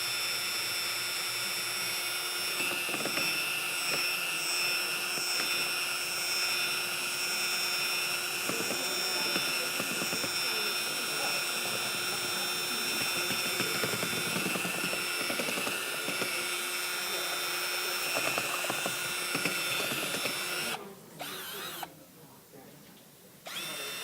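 An electric mixer whirs steadily through a cheesecake ice cream mixture, a constant close motor drone that dips and stops near the end.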